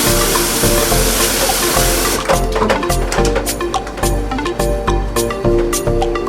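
Tap water runs steadily into a drainer while quinoa is rinsed in a kitchen sink, a bowl set underneath to catch the water, with clattering and splashing from about two seconds on.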